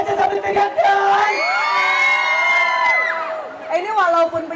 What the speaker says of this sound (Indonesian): Tepuk tangannya kece sambil teriakan.